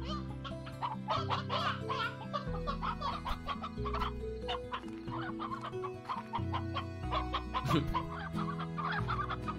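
Chickens cluck in the video game Slime Rancher, with busy repeated clucks and short squawks running throughout over steady game music, fairly close and continuous with no speech.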